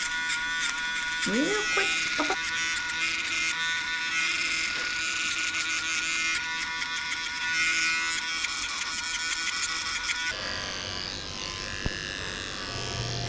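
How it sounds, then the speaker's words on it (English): A Dremel sands a Yorkie's nails with a close, high buzzing whine that runs steadily, shifts in pitch as it presses, then changes tone near the end, while a person speaks briefly over it. "I'm also dremeling her nails just to sand down or round off the edges"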